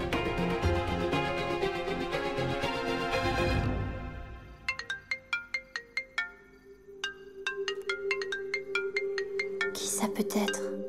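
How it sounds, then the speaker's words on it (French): A telephone ringtone in a French television drama: music plays first, then the ringtone chimes in a quick, repeated run of bright electronic tones, each burst followed by a short pause, loud and close. "Allez, décroche ton téléphone."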